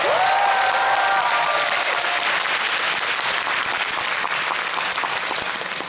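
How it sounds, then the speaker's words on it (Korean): Loud crowd cheering and applause at a Busan International Film Festival guest talk for the film Boys, a dense wash of clapping with brief whistles and shouts at the start, gradually settling. "한 번만 더 환호를 부탁드립니다."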